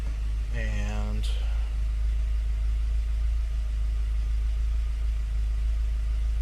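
A 2.5L Duratec engine from a 2015 Ford Escape, swapped into a 2006 Ford Ranger, idles with a steady low hum, opening with a brief chirp of another sound before settling into an even drone.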